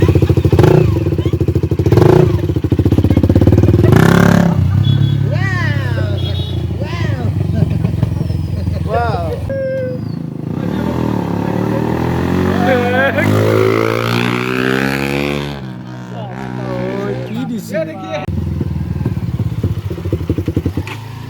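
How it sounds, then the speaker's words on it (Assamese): A dirt bike engine revs up and down repeatedly while being ridden, its loud, close pitch rising and falling in sweeps with occasional clatter and thumps. "ডাৰ্ট বাইকখন চলাওঁ, আৰু চলাই পেলাই এবাৰ চাওঁ কেনেকুৱা লাগে"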